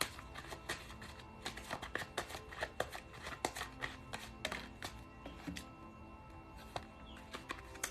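Tarot cards are shuffled by hand in a continuous run of crisp riffling clicks and slaps, close and fairly loud, with no one speaking.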